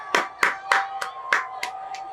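Rhythmic clapping, about seven sharp claps spaced roughly every quarter second, bright and fairly close with a steady tone underneath; no clear cheering voices.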